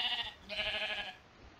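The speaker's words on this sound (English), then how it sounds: "how did a sheep get in my house?" A sheep in a video game bleats twice in quick wavering calls, close and clear with no talk over it.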